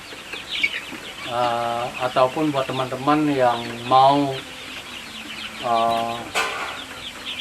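KUB village chickens cluck nearby in a busy coop while someone talks over them.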